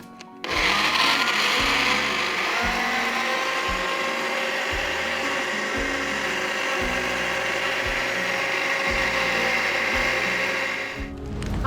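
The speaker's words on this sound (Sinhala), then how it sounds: "බ්ලෙන්ඩ් කරන්න ඕන." A kitchen blender whirs loudly and steadily for about eleven seconds, churning a smoothie of yogurt, honey, mint leaves and ice cubes, with a rhythmic low knocking as the ice tumbles against the jar.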